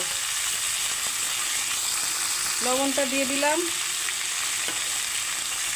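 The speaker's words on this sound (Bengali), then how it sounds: "আমি এখন কাঁচকলা পেঁপে আলুগুলো দিয়ে দিচ্ছি একটু ভেজে নেব" Green banana, papaya and potato pieces fry in a pan for a fish curry, giving a steady sizzle throughout with a brief stirring clatter midway while someone speaks over it.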